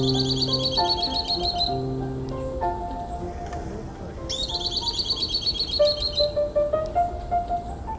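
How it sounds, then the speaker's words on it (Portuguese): A small wild bird drawn in by playback of recorded bird calls gives bright, rapid chirping trills in two clear bursts, alongside steady tonal sounds in the background. "é um passarinho que, se você chama na técnica chamada playback, que é a atração de aves por meio de gravações, ele vem"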